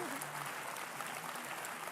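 Applause from a Liberal Democrats conference audience fills the hall, dense and steady and heard from within the crowd, with a faint voice underneath.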